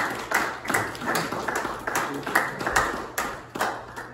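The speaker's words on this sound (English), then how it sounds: "Let's give him a round of applause." An audience claps in a steady, rhythmic beat, sharp hand claps repeating close together for several seconds.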